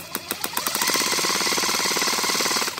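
A National oil pulse impact driver drives a screw into soft wood, starting with a few separate knocks that quickly speed up into a loud, steady rapid hammering that runs for a couple of seconds.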